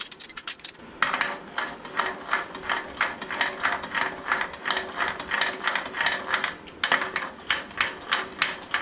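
Torque wrench ratcheting in a steady run of rapid clicks while tightening bolts on a VW aircooled 2007cc stroker engine short block, close and fairly quiet, with a brief pause near the end before the clicking resumes.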